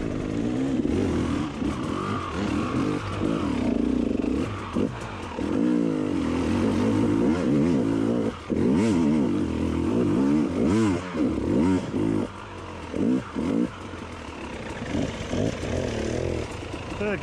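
A 300 TPI two-stroke motorbike fitted with an Inova Power ECU reflash is ridden, its engine rising and falling through repeated revs and throttle pickups, loud and close with clattering mixed in.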